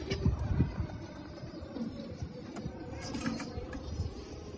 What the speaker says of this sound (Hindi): ये पूरा कबूतर है